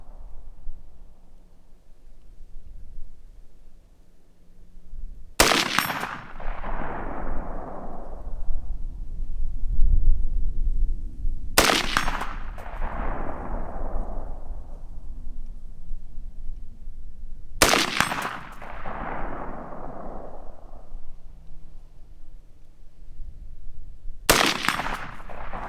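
Gunshots from a Colt A2 Government Carbine clone rifle (727) at a target range: four loud, sharp cracks about six seconds apart, each trailing off in a long rolling echo.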